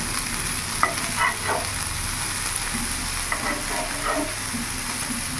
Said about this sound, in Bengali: এইভাবে একটু লাল লাল করে ভেজে নেব